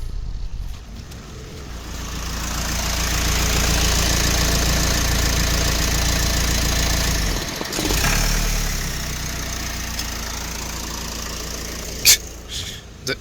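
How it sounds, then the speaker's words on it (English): A Renault Espace IV engine idles with its air filter sensor disconnected, a loud steady drone that suddenly dips and falters midway as it stalls, then lingers more quietly with a couple of sharp clicks. "The engine stopped a little bit."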